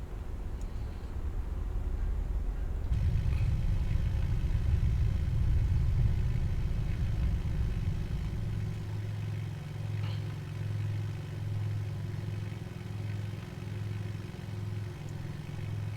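A KitFox light aircraft engine idles fast in Microsoft Flight Simulator 2020, giving a steady low rumbling drone that swells after a few seconds and then settles into a pulsing, throbbing idle.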